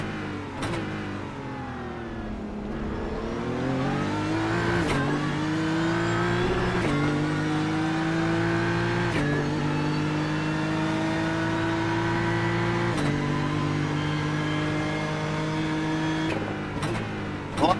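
Race cars at Sebring, including the number 7 BMW, passing with sustained engine drone and rising, falling revs as they pass, several sharp shifts punctuating the steady roar, no voices.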